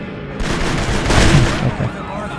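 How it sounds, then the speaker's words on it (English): Gunfire in the video game Kane & Lynch: Dead Men, a burst of loud, rapid shots with booming impacts, fairly close and dense over a couple of seconds. "Who are you shooting?"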